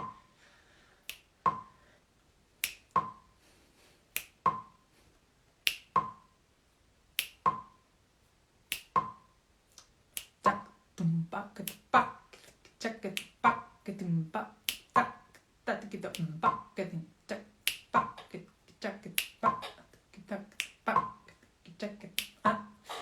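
Sharp metronome clicks tick at an even pace, first alone, then continuing under a voice speaking and singing along.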